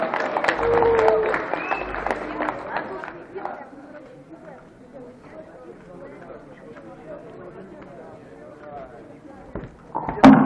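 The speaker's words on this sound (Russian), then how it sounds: "Аплодисменты нашим финалистам" Hall applause for finalists at a 3x3 speedcubing competition final rises briefly, then fades into crowd chatter and talk, ending with a sharp slam.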